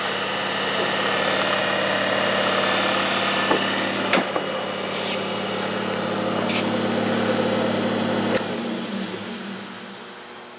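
A Rong Fu-31 belt-drive mill drill with adjustable pulleys runs at a steady hum, its motor whine holding constant. A few sharp clicks and taps sound close by.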